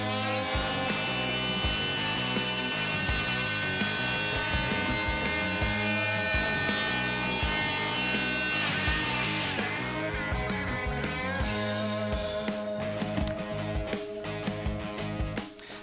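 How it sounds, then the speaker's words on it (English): An oscillating multi-tool fitted with a SMART HBC75 single box cutter bores an electrical back box hole in plasterboard, giving a steady, loud, close buzzing drone that runs unbroken and shifts slightly in tone partway through. "So you've seen how easy it is to cut an electrical back box hole with this cutter."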